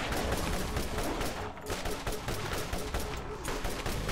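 Dense gunfire in the video game Borderlands, a rapid continuous stream of loud shots with brief pauses, close and sustained over the whole stretch.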